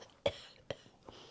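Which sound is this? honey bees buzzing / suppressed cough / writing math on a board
suppressed cough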